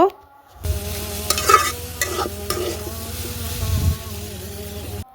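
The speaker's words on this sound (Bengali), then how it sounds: "কিছুক্ষণ একটু নাড়াচাড়া দিয়ে এই মশলাটাকে এগুলোর সাথে ভেজে নেব" Spices are fried and stirred into a cabbage filling for momos, a quiet moment followed by a steady close sizzle and scraping spatula strokes across the pan, with no talking over it.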